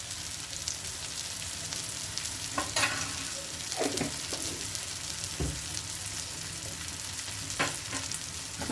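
Egg masala with ginger-garlic paste fries on a tawa as a spatula stirs it, a continuous loud sizzle broken by repeated scraping and clattering strokes against the pan.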